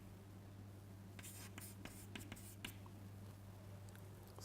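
A pen scratches in short strokes over a steady low electrical hum in a tutorial setting, with faint tapping and rustling mixed in.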